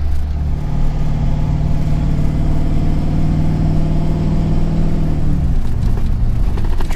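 Pickup truck engine hauling a heavily loaded trailer, a loud, steady mid-range drone with road and tire rumble that holds constant before easing slightly toward the end.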